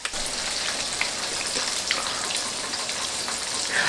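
King crab legs and lobster fry in oil with a constant rain-like crackle and fine popping, steady and fairly close, with no speech.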